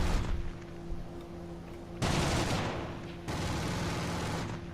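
Aircraft gunfire in the War Thunder video game, with a heavy fighter in the fight: two long, sustained roaring bursts of cannon and machine-gun fire over a steady engine drone.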